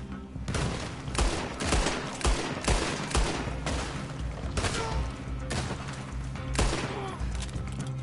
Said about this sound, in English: Doesn't do a lot, this Kettleman revolver though.